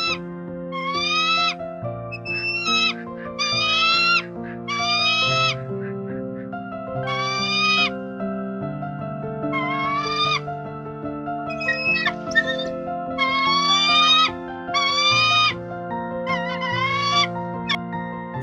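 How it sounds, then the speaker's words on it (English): Sharp, high, rising calls of a Steller's sea eagle in short bursts repeat through the clip, loud and near, over a steady musical backing. "Stellar sea eagle."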